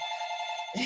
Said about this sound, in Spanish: perdón mi teléfono